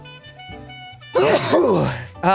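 A single loud human sneeze bursts out close by, with voices talking just before and right after it.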